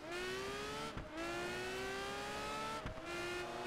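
Loud race car engine in the video game Project Gotham Racing 4, a high-revving whine climbing steadily through the gears with two brief gear-change dips, close and continuous.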